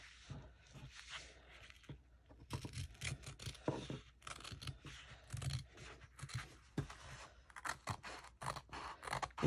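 Paper being trimmed with scissors for a handmade junk journal cover, with repeated close snipping and rustling in irregular bursts.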